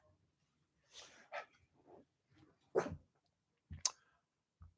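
A dog in a home hallway gives a few short, scattered barks and yips, soft and somewhat distant, separated by quiet gaps.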